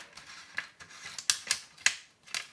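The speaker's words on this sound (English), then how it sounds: "grab my scissors and just cut some of that away" Scissors snipping through transfer tape in a series of sharp, crisp cuts close up, about seven in irregular rhythm with quiet pauses between.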